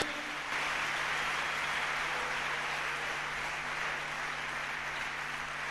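A church congregation applauds in a dense, even wash of clapping that holds steady at moderate volume, with a faint low hum underneath.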